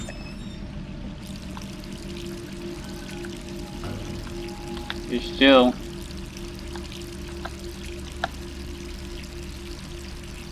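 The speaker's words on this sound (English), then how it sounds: "turn off the water" Water runs briefly from a bathroom tap in the Resident Evil 3 Remake video game, a short pouring burst in the middle with game ambience and a voice speaking around it.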